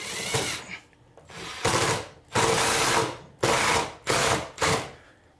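A power drill drives screws to mount a homemade wooden pull-up bar, six loud whirring bursts of about half a second each, separated by short pauses, close by.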